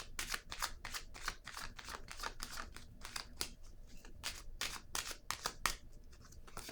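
Tarot cards handled over a spread, with repeated crisp papery flicks and shuffling snaps in quick, uneven bursts, close and moderately loud, with no talking.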